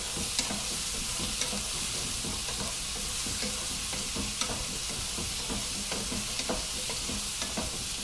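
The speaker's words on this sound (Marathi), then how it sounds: "ही भेंडी सुद्धा ह्याच्यावर परतवून घ्यायची आहे." Okra (bhendi) being stir-fried in a pan for bhendi masala, with a steady close sizzle and repeated scraping stirs of a spatula across the pan throughout.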